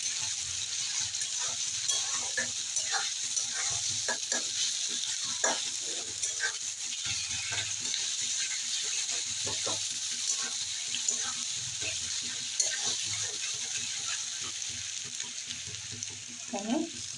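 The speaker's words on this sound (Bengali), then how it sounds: "রসুনটা একটু ভেজে নেব।" Garlic paste fries in a pan with a soft, steady sizzle, while a utensil stirs and scrapes against the metal in irregular close taps throughout.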